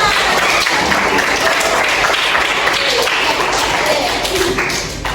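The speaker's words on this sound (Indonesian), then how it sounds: "Tepuk tangan." Applause from pupils in a classroom, a steady dense patter of many hands clapping that holds for about five seconds and eases off slightly at the end, with no talk over it.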